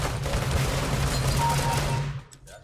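Rapid gunfire from a CS:GO match rattles loudly and continuously for about two seconds, then cuts off abruptly.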